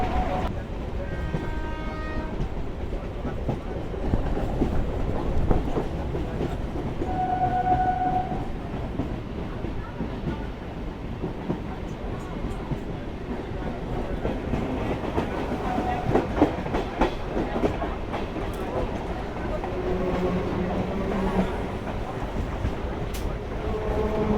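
A Sealdah–Diamond Harbour galloping local train pulls into Deula station with a steady, loud rolling rumble and rail clatter, plus short tonal horn or whistle notes early on, heard from on board.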